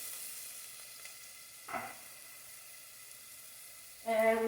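Shallots cook quietly in a pan with a low, steady sizzle, broken by a brief stir scrape and a louder clatter of the pan near the end.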